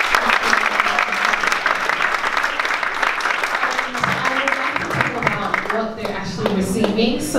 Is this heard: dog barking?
no